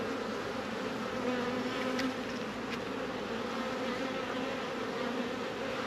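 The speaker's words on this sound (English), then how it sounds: "Some emerging bees in there." Honeybees hum and buzz steadily from an open hive during an inspection, a dense, continuous close-up drone with no talking.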